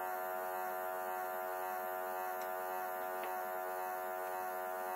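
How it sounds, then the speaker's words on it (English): A label-tagging machine's motor runs with a steady, even electric hum, quiet and unbroken throughout, with no talking. "And the motor is running very,"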